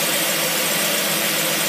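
A car engine fitted with a Carter AFB four-barrel carburetor idles steadily and loudly close by, a continuous even drone with no speech over it.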